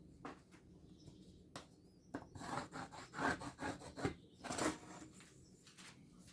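Pencil or marker rubbing along a wooden board to reinforce a dividing line for a canoe frame, a series of close scratchy strokes, some short and some drawn out, with no talking.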